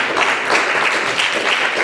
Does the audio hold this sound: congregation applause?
yes